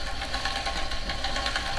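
A steady mechanical whir with a faint rhythmic pulsing, continuous and fairly close, from a bike's rear wheel spinning against the magnetic resistance roller of an indoor trainer.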